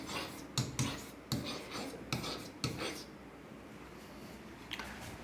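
Chalk or marker writing on a classroom board during a set theory lesson makes several sharp strokes and taps in quick succession, followed by quieter scratching.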